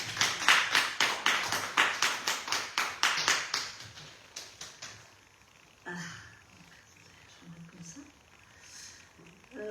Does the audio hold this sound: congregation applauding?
yes